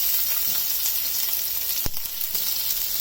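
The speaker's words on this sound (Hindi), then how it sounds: "इसको हम ऐसे सौटे करेंगे सॉफ्ट होने तक" Onions sautéing in a pan for masala dosa potato filling give a steady, loud sizzle that runs throughout, with one sharp click near the end.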